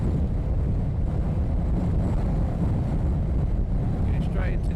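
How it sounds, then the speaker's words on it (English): Strong gusty wind roars across the microphone at Luton Airport, a loud, dense, continuous low rumble of buffeting throughout, with faint background sounds barely showing beneath. "It is blowing an absolute gale up here today."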